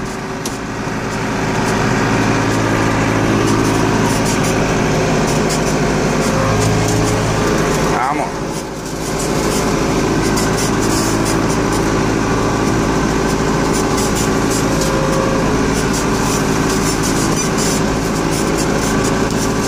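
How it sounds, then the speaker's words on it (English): A Tiger brushcutter brush hogging rough terrain in second gear drones loudly and continuously, its engine steady and close, with a brief dip partway through before the heavy roar resumes. "when you're in a fairly rough terrain like this, you want to brush hog in second gear on the low side"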